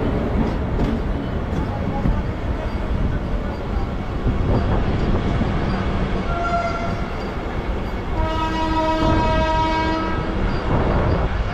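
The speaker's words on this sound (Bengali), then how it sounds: "হাওড়া পুরী বন্দে ভারত প্ল্যাটফর্মে দিচ্ছে।" A Howrah–Puri Vande Bharat train pulls into a station platform with a loud, continuous rolling rumble, and a sustained horn blast sounds near the end.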